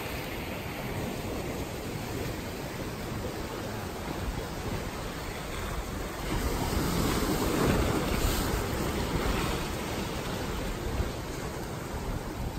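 Continuous roar of ocean surf washing over rocks at Sunset Cliffs, San Diego, with a swell of heavier wash midway and wind noise buffeting the mic.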